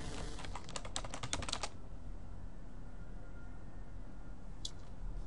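Password typed on a computer keyboard: a quick burst of close, crisp key clicks in the first couple of seconds, then quiet room tone with one last isolated keystroke near the end.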